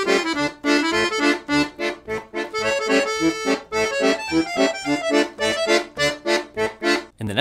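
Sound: 96 bass accordion playing Dark Eyes gypsy swing solo

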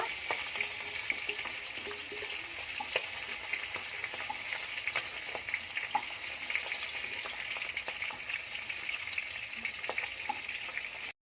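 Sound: pangasius fish frying in its own oil

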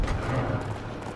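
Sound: horse galloping in a video game

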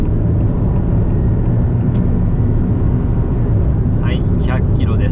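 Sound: Honda N-BOX 2023 naturally aspirated engine accelerating to 100 km/h

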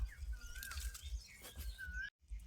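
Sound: birds calling in jungle

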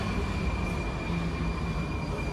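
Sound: Prague metro train

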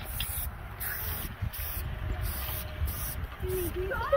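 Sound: spray paint can spraying

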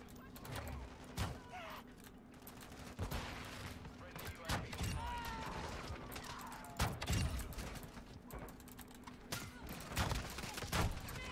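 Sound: gunfire in a video game

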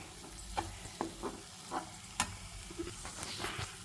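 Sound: bitter gourd frying in a pan

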